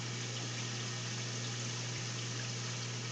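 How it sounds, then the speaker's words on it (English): Water flows steadily through aquarium sump plumbing in a home reef setup, a constant faint rushing hiss with a low pump hum underneath and no speech. "No problem getting enough water flow."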